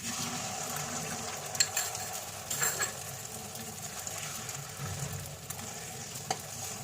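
Beaten egg frying in hot oil in a pan for an egg curry, with a steady close sizzle and a few soft scrapes and clicks from a spatula scattered through.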